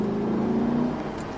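Lamborghini Gallardo LP 560 accelerating down a straight on a racetrack at Perpignan, a steady loud engine drone with a sustained low tone that holds through the short clip, no talking.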